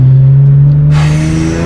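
Modified Hyundai Genesis Coupe 3.8 R-Spec V6 engine accelerating, a loud close steady drone that swells into a brighter, harsher rasp partway through as the revs climb.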